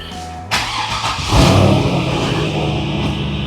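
A 2002 Corvette Z06 cranks and fires up, a brief starter whir giving way to a loud, close engine catch and then a steady deep idle.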